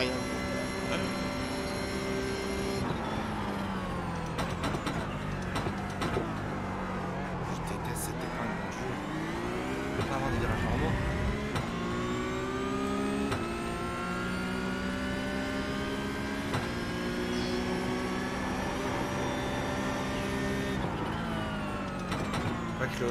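Car engine revving in a racing video game, a steady high-pitched whine rising and falling through gear changes, running continuously under French conversation between players.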